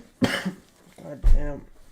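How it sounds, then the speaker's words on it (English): A man coughs twice in quick succession, close and harsh, with a short voiced catch after the second cough and near silence around them. "I keep coughing"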